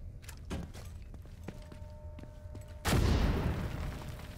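A grenade blows apart a barricade in The Division 2, one sudden loud blast with a rumbling decay after scattered gunshots and clatter.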